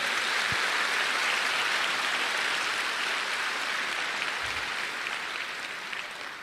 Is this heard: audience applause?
yes